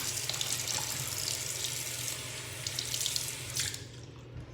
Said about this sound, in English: I'm just rinsing off